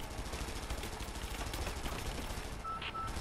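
A helicopter's machine gun firing in the video game Rise of the Tomb Raider: a continuous, rapid stream of shots at low to moderate level, easing off near the end, where a brief electronic beep appears.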